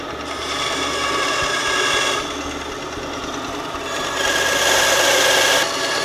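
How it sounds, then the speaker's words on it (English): A bandsaw cuts through round stock in a workshop, a steady loud rasping buzz that runs continuously, swelling slightly as the blade bites deeper in the middle and toward the end. "I've got to get on the bandsaw here and cut the round to start with"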